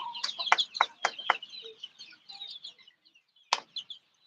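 Fayoumi chickens cluck and squawk close by, a burst of sharp calls early on, then softer scattered clucks, a short pause and one more loud call before quieter murmurs.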